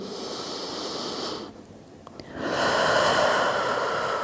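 Slow, deep breaths during a pelvic floor exercise, a full airy exhale fading into a short quiet gap before a stronger, drawn-out inhale, close-up and steady.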